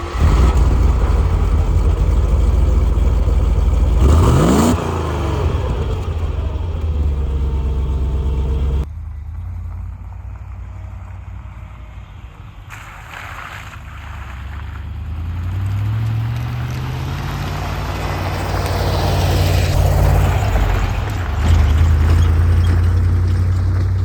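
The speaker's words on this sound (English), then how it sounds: "The sound of the V8, the punch of the V8" A Land Rover Discovery V8 three-door drives along. The engine drone is loud and steady inside the cabin, with a rising rev sweep early on, a quieter stretch midway, and then another climb in engine pitch.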